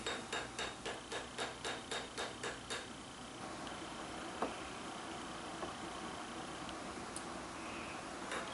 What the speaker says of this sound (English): I then finish off the end of the handle by hammering it out into a wedge shape.